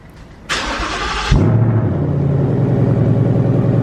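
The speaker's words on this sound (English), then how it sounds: "So here we are with the V8 about to start." A Ford Mustang V8 engine, 450 bhp, cranks with a sharp starter whine, then catches and settles into a loud, deep, steady idle rumble close by.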